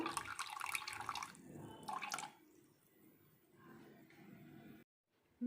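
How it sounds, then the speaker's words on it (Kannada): Tamarind juice is poured into a pot of temple-style rasam, giving a close, splashy liquid pour with a second burst of pouring, then fading into quiet kitchen bubbling before a brief silence. "ಇವಾಗ ಹುಣಸೆ ರಸನ ಹಾಕ್ತಾ ಇದ್ದೀನಿ ಹುಳಿಗೆ ಬೇಕಾಗುವಷ್ಟು"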